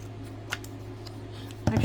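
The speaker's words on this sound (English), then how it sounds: "I'm gonna cut this one." Scissors snip a paper journal page: one small crisp cut, a quiet pause, then a louder burst of cutting at the end, close by.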